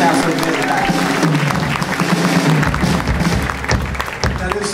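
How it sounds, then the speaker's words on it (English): Loud, dense applause from a crowd at a blues music festival fills the whole stretch, steady clapping with a voice talking over it and some music underneath. "Everybody give a round of applause for the sound man"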